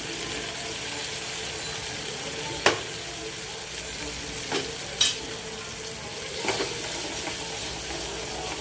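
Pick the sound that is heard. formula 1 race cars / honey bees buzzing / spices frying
spices frying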